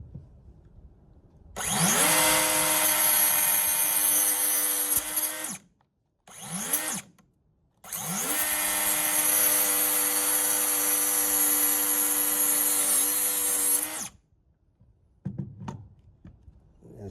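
A cutoff saw slices through steel railing cable in two long, loud whining bursts split by a brief blip, then winds down to quiet.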